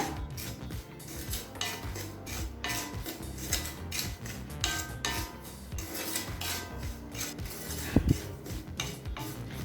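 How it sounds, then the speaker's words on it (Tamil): Dry semolina (rava) roasting in a kadai over low heat, stirred with a steady scraping, rasping sound and light clinks of the utensil against the pan, with one sharper knock near the end. "ஸ்லோலே வச்சு ரவையை நல்லா கலர் மாறாத மாதிரி வறுத்துக்கோங்க"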